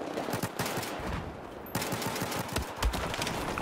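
Rapid automatic gunfire from an AK-12 rifle with a suppressor in the Battlefield 4 video game, irregular bursts of shots across the whole clip with no talking.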